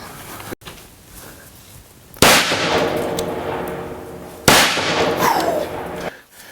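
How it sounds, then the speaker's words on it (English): An 18-inch Daniel Defense AR-15 rifle fires Federal 62-grain Trophy Bonded Bear Claw bullets: two loud, sharp reports a couple of seconds apart, each trailing into a ringing echo, preceded by a faint click. "JJ, we have Reid's 18-inch Daniel Defense AR-15. We have 62 grain trophy bonded bear claw bullets."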